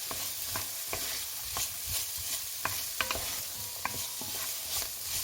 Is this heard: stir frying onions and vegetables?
yes